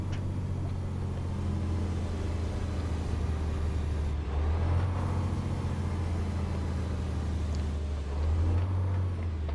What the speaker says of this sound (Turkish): Bu da motor freni.